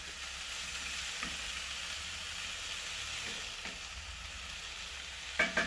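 Pie filling with ham is stirred in a pan on a Kamado Joe grill, a steady sizzle running throughout with a few soft scrapes and a couple of louder clanks at the end.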